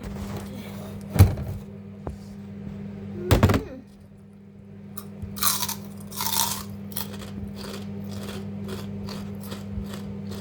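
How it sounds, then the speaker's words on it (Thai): Someone chews crispy fried pork cracklings close up, with a couple of sharp bites followed by a run of loud, brittle crunches and quieter rhythmic chewing. "กรอบแบบจริงจังมาก"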